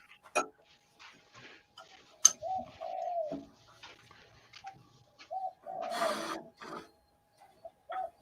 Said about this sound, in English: It's better than listening to the bloody pigeons that I got.